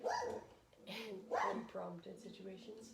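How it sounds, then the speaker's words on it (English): A pet dog barks in a couple of sharp, close bursts while a person keeps talking. "That is my dog."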